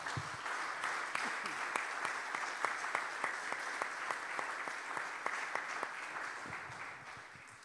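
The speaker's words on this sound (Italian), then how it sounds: "vi chiedo un applauso" Audience applause fills a hall at a community cultural event in Vaccarizzo Albanese, a steady field of many hands clapping with distinct sharp claps standing out, tapering slightly toward the end.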